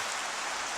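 Steady rain falls in a dense, even hiss with no pauses, heard alone for a moment without any talking.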